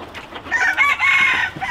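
Hens cluck on a Hmong American chicken farm while a rooster crows nearby, its call rising and sustained over the clucking in a short, close burst.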